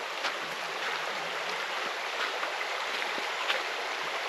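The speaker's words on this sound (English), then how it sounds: "we have our own little private entrance to the river." A flowing river stream at a campsite along Victoria's Great Alpine Road near Mt Hotham, a steady, fairly quiet hiss of running water with faint splashes, heard alone with no talking.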